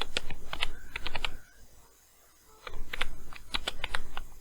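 Fingers tap out a file name on a computer keyboard in quick clustered bursts of clicks, a pause of about a second in the middle, then another run of keystrokes, close and fairly crisp.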